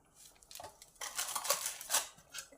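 Quiet scraping and clinking of a spoon stirring potato and egg curry in a pan, a few soft irregular strokes over about two seconds.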